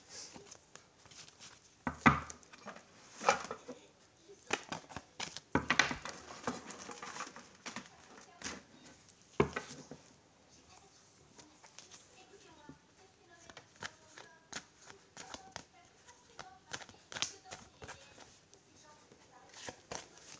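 Oracle cards are shuffled and cut by hand in irregular bursts of soft riffling and tapping, close and quiet, with someone speaking French throughout.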